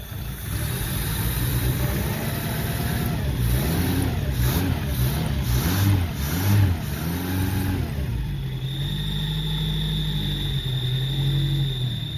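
A Renault Le Car engine runs close by with freshly changed spark plugs, revving in several rising and falling bursts before settling into a steady idle.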